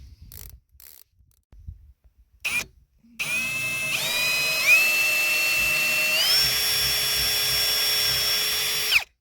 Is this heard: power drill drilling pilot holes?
yes